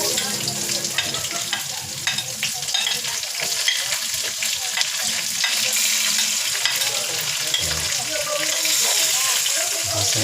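Onions fry in a pan for a squid dish, giving a loud, continuous sizzle broken by frequent stirring clatter, with a few faint voices in the background.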